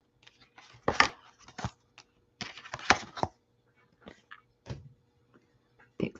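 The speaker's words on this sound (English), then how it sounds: "let me shuffle cards for you and let's see." Tarot cards are shuffled and handled nearby, giving irregular clusters of soft snaps, slaps and rustles separated by quiet pauses.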